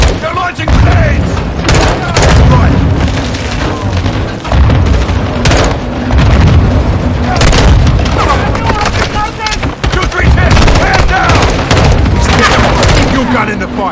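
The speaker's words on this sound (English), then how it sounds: "They're launching grenades." Grenade launches and explosions in a Call of Duty battle, a dense, loud run of booms and gunfire-like bursts filling the whole stretch with dense low rumble, voices occasionally heard under the chaos.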